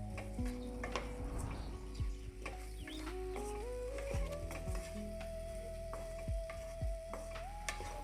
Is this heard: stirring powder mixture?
yes